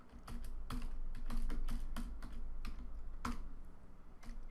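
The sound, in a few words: typing code on a computer keyboard in Android Studio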